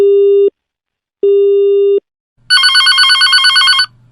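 Telephone line tone: two steady beeps of about half a second each with a pause between, then a brief warbling ring-like burst, all loud and alone with no voices.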